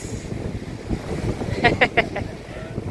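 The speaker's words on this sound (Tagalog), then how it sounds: "Palaki ang alon habang tumidilim." Ocean waves growing bigger at dusk wash and rumble against steady wind noise on the microphone, with a few brief sharp sounds partway through.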